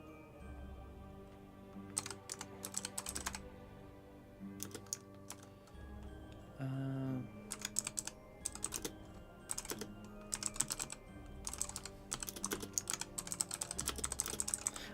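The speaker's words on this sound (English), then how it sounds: "I'm typing this out" Fast bursts of clicking keystrokes on a computer keyboard come in uneven flurries with short pauses, sitting close and crisp over a soft musical background.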